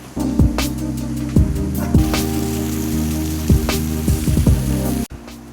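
Monsoon waterfall water patters and drips near a small rock cave at Ganpati Gadad in the Sahyadri hills near Murbad, a steady close splashing with sharp droplet ticks over a constant hum, ending in an abrupt cut.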